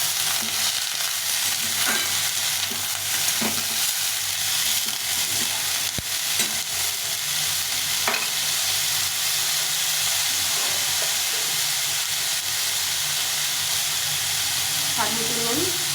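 Bottle gourd peel fries in a pan with a continuous loud sizzle and hiss, while occasional stirring scrapes and faint clinks come through the steady noise.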